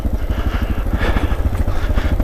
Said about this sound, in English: all I'm doing is helping the engine brake